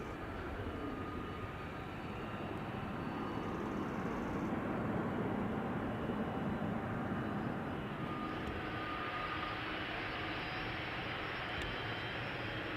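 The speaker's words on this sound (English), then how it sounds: "I'm hearing a Delta A330 and I cannot lie." Delta Airbus A330 engines at Amsterdam Schiphol Airport produce a steady, broad jet roar that swells slightly in the middle, heard at a moderate distance.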